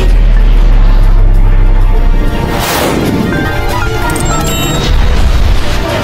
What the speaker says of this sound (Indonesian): kena sendiri tuh ledakan dari rocket launcher yang mau ia gunakan untuk ayahnya